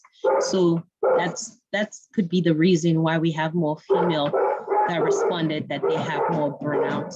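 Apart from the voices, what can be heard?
dog barking in the background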